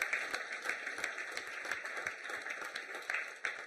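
An audience claps in a steady, rhythmic beat that runs unbroken for several seconds, fairly faint and with no voices over it.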